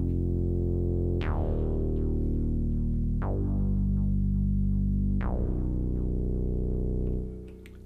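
A Roland JD-Xi synthesizer plays a backing part: three loud, sustained chord swells with bright plucked attacks, each ringing about two seconds before fading out at the end.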